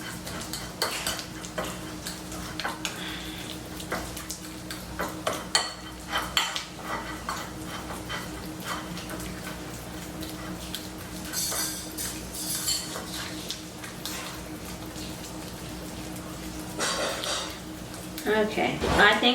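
Minced browned garlic worked into a paste with a utensil in a bowl, repeated scraping and clinking of metal on dish throughout, with someone talking intermittently.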